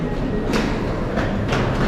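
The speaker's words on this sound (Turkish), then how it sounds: "Şu an tren istasyonunda indim." Ambience on arrival at the train station in Heilbronn, Germany: a loud, steady rumble of a train with a few short hissing bursts, close and continuous, with no talking.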